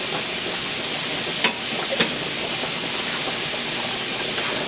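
Previously frozen shrimp frying in a hot pan for seafood Alfredo, a steady loud sizzle with a couple of brief pops, with no talk over it.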